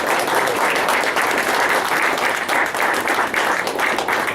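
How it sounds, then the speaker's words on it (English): An audience applauds loudly and continuously, a dense wash of many hands clapping at once that holds steady without any voices breaking through. "Let's give them another round of applause."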